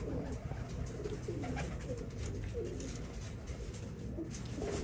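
Teddy pigeons coo in a breeding setup, with several soft, repeated coos over a steady background hum and no talking.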